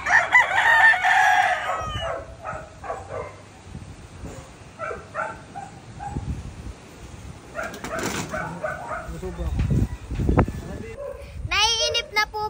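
Roosters crow and hens cluck nearby, with a dog barking in between and a person talking over the birds.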